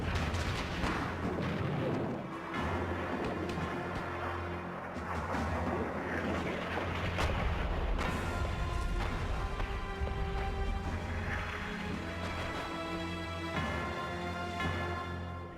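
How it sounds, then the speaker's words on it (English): American WWI guns lay down a shelling barrage, continuous rumbling booms and heavy thuds rolling one after another, loud and dense throughout with sharp impacts standing out; no talking. "Over their heads, American guns laid a barrage of shells to soften up the German"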